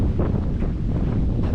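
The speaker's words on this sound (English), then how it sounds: "Okay, the wind is brutal." Strong wind buffets the microphone on a lakeshore, a loud, continuous low rumble that may hide waves on the water.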